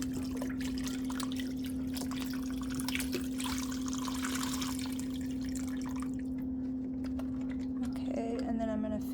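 Chicken broth from a carton being poured into a pot for homemade chicken noodle soup, a steady liquid splash and trickle over a constant kitchen hum, ending in a gurgling glug.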